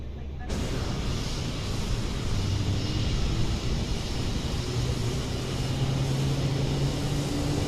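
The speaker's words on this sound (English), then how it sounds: "You can see our engine spooling up here." Airbus A320 jet engine spooling up in Microsoft Flight Simulator, a steady broadband roar holding at a constant level with a faint low hum rising slowly underneath.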